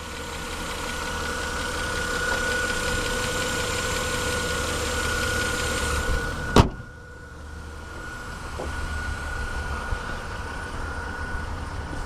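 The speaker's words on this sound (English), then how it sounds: "Here's the engine." A 2010 BMW 535i xDrive engine idles with the hood open, a steady low hum with a faint ticking texture, interrupted midway by a sharp click and a brief drop in the background.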